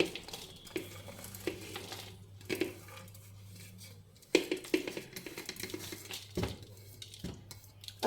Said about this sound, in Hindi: अब ये हम सारी मिर्च डाल देंगे दोनों तरह की